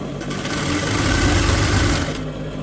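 A sewing machine runs steadily while stitching down a pleat on an aso-oke fabric ruffle headband, a continuous close mechanical whir lasting about two seconds before easing off.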